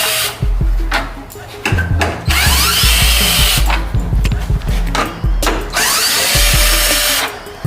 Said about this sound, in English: I just don't like being all day, so I like to use my power ratchet.